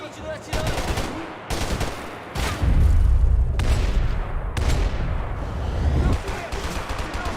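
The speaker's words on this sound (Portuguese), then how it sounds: "Avança! Continua atirando!" Continuous gunfire in Max Payne 3: repeated loud bursts and single shots crack in uneven succession over a rumbling, chaotic firefight, with shouting voices mixed in among the shots.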